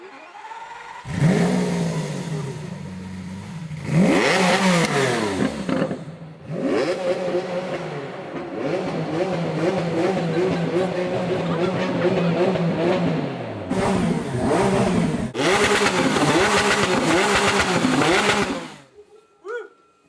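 Lamborghini car engine revving hard in repeated bursts, each blip climbing and falling in pitch, with short silent gaps between throttle stabs and a loud, close, snarling tone throughout.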